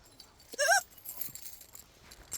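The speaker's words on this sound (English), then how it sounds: "Here's her doggies are in the window, barking away." Small dogs barking behind a window, one clear close bark followed by fainter yaps and background noise.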